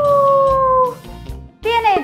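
A wolf howl in a Spanish-language children's farm song, sung as long rising and falling voiced tones that imitate the animal, loud and close over a backing track.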